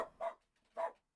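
A pet dog barking twice indoors, two short separate barks at moderate loudness, heard alone with no talk.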